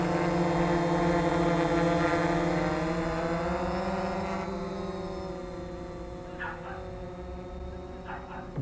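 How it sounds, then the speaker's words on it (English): A Banyangtoys X21 quadcopter drone hovers on its brushless motors, giving a steady, loud harmonic whine that holds level and then slowly drifts in pitch and fades slightly, with a few brief ticks near the end. "these are powerful brushless motors on this."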